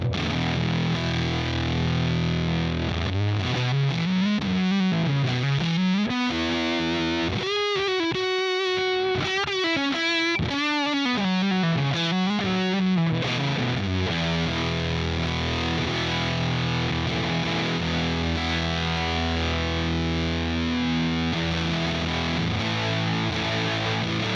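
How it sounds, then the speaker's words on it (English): Fuzzy, heavily distorted electric guitar plays sustained chords and a wavering bending lead line, loud and continuous throughout. "And then we're going to go fuzz side of the Redacted."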